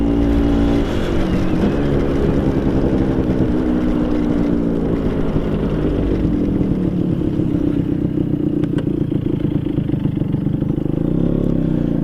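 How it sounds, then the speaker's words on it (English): A Vespa PX scooter fitted with a VMC Super G 177cc kit accelerates hard in second gear, its loud buzzing two-stroke engine rising steadily in pitch close to the rider with wind noise throughout. "So I'm in second gear now. I'm going to give it the throttle."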